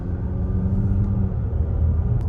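Volvo XC90 facelift SUV in Dynamic mode on winding roads: a steady low engine and road rumble from inside the cabin, continuous and fairly loud, with no talk.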